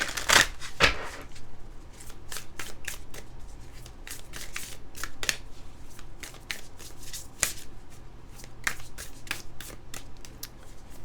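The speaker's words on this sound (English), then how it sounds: "we will shuffle and draw one card from my deck" Cards riffle and snap repeatedly in quick bursts over a quiet background, with a few louder slaps near the start, no talking.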